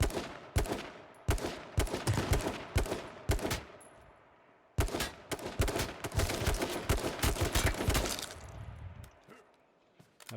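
Rapid bursts of gunfire in the H1Z1 battle royale game, loud and close, with clusters of shots separated by brief pauses and a final tapering volley.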